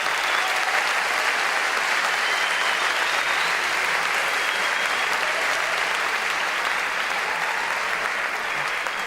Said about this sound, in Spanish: Les pido un fuerte aplauso por ustedes